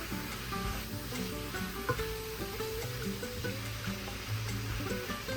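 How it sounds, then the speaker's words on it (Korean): Beef and green onions stir-frying in oil in a home kitchen, a steady soft sizzle with faint scraping and stirring, continuous and fairly quiet with no talk. "고기가 어느 정도 익었으면 대파를 넣고 대파의 숨이 충분히 죽을 때까지 볶아주세요."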